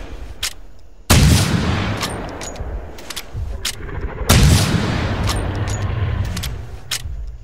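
Two loud rifle gunshots ring out in the video game theHunter: Primal while a T-Rex is being hunted, each blast followed by a long rolling echo. Faint clicks and taps fill the gap between the shots.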